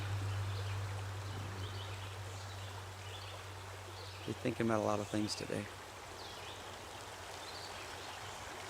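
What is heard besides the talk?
creek flowing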